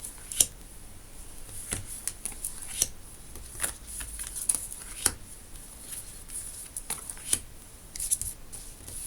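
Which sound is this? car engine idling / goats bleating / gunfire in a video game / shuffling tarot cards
shuffling tarot cards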